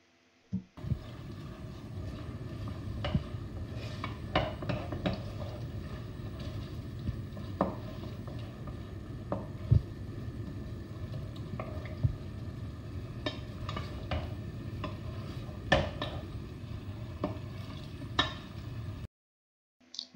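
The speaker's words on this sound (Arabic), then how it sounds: "نحلهم بالقدا في الزيت، قليهم، حرك الطنجرة متاعي" A pot of ingredients fries in oil for a jariya dish, a soft steady sizzle with repeated scraping and knocking as the pot is stirred.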